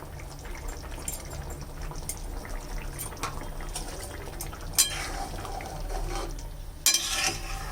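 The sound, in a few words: ghee sizzling while cooking green jackfruit curry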